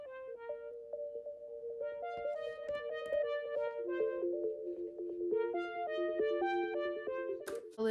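A twinkly synth melody repeated in a pop song chorus, bright bell-like notes stepping through a phrase over sustained chord tones, clear and close with no voices.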